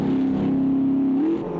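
A Chevrolet Camaro GT4 race car in Automobilista 2 holds a loud, steady engine drone on track, pitch rising slightly near the end as it accelerates.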